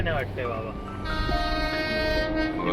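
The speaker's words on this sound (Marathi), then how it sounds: "आता ट्रेन आली बरोबर, टाइमवर आली बघा." A train rumbles past nearby with a steady low roar and sustained tonal horn-like notes, heavy continuous rail noise throughout.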